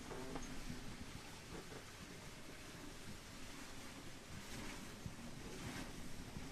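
Open-sea waves wash and surge around a small sailing boat, a broad, steady roar of water mixed with wind buffeting the microphone, fairly faint and continuous with no speech.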